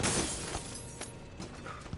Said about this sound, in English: I'm just smashing everything.